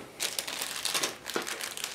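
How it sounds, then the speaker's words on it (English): A plastic bag holding the parts of a Special Hobby 1/72 Avia C.2 model kit crinkles and rustles continuously as it is handled and opened close to the microphone. "we have plenty of parts inside of the plastic bag. Let's open it and check what's inside."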